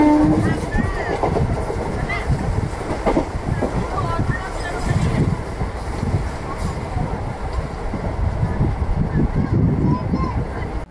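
An express passenger train, number 17231, runs at about 110 km/h through a halt station, heard from onboard as a steady rumbling roar with rhythmic rail clatter and a voice talking over it.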